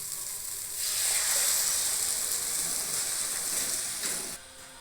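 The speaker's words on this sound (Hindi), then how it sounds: "अब हम बेसन के घोल डाल दे रहे हैं।" Gram flour batter poured into a hot pan with turmeric sets off a loud, steady sizzle and hiss that swells at once, holds for several seconds, then drops off sharply near the end, with no talk.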